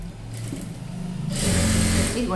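Sewing machine running steadily while stitching a maggam work blouse neck, a continuous mechanical whir that grows louder and busier partway through, with someone talking over it.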